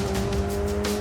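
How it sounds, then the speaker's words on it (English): A powerful Porsche race car runs a warm-up lap on track, its loud engine droning steadily with tire squeal and a rushing sense of speed, heard close and continuous over a brief moment. "The first lap serves only to warm up the tires, but even now, the car's enormous power is obvious."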